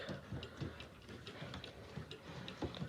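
A German triple chime wall clock with a Jauch movement ticks steadily and evenly, close and quiet, with no voices.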